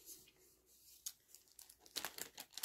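A crinkly plastic package holding small bow-shaped thread scissors is torn open by hand. Quiet crinkling builds into a quick series of rips and crackles near the end.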